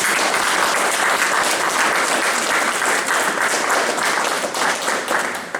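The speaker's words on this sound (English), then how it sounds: "I hope you'll give yourselves a very large round of applause." Sustained, loud audience applause at an exhibition gathering at the Beaulieu National Motor Museum, a thick wash of clapping holding steady before thinning slightly at the end.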